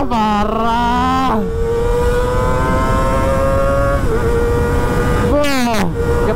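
A Kawasaki ZX sport motorcycle engine revs hard with a shrill, high-pitched scream, climbing through gears with short dips between pulls. It is loud and close throughout, and a voice speaks briefly under it.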